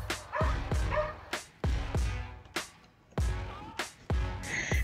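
Several dogs bark and yip in a rapid, irregular series of sharp, loud barks close by, with a few whimpers between them, outdoors at a home.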